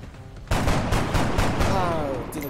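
Gunshots from the XCOM: Enemy Within game burst in suddenly as a loud, rapid rattle of several shots, followed by a fading ring.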